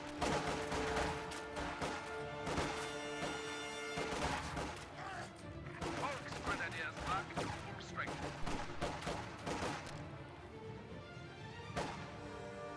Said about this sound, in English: Contact! Small arms fire!